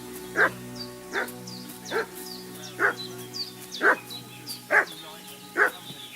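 A dog in Kingdom Come 2 barks in a steady series of about seven evenly spaced, mid-distance barks, set against soft ambient game sound.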